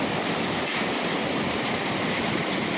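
Steady, dense rush of water pouring over a small weir, a constant broadband roar with no pauses, close and fairly loud.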